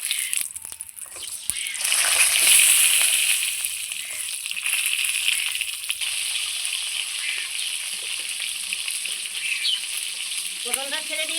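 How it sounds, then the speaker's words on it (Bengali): Pointed gourd (potol) slices for a poppy-seed dish frying in oil in a pan, a steady loud sizzle that swells early then settles, with faint clinks of a utensil near the end. "বাদ বাকি পটলগুলো আমি একইভাবে ভেজে নেব।"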